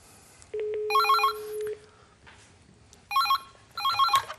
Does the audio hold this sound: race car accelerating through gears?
no